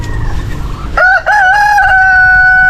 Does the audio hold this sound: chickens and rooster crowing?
yes